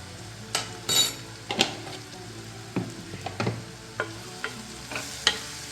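Chicken being stirred with a spice mix in a hot pan: a spoon scrapes and clinks against the metal repeatedly in uneven strokes over a low background sizzle.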